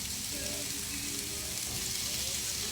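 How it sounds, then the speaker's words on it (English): Onions frying in a pan at a home cooking session, a steady, dense sizzle with faint crackles running throughout at moderate level, with no pauses. "The onions are going on."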